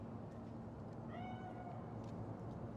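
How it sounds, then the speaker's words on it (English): A cat meows once in Cyberpunk 2077, a single drawn-out, slightly wavering cry in the middle of a steady, low in-game ambient hum, with no talking. "Chill, just a cat."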